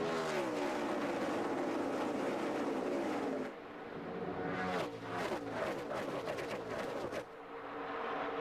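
NASCAR stock cars roar away at the start of the 2012 Pure Michigan 400 at Michigan, a thick, steady pack of engine noise that drops briefly and then returns as cars sweep past one after another, loud and close.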